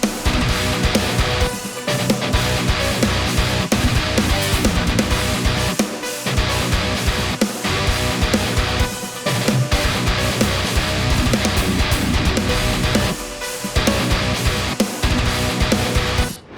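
Mixed electric guitar tone playing inside a full band mix, loud and dense with drums and steady rhythmic chugging, continuous and without any talking.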